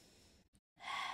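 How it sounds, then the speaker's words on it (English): A deep inhaled breath taken during a hip exercise routine, a breathy rush after a brief pause, close and fairly loud, with faint breathing before it. "inhale, exhale, deep breath in"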